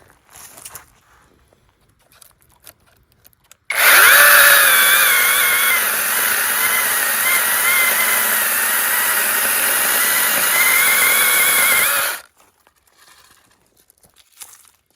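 A battery-powered chainsaw revs up and cuts through a branch about three inches thick in a garden. It makes a loud, continuous whine for roughly eight seconds, then cuts off sharply into quiet outdoor ambience.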